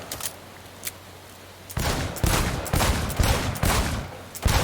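Rapid bursts of gunfire at a shooting gallery in Cyberpunk 2077, with sharp, loud shots cracking in an uneven rhythm after a quiet start with two faint isolated pops.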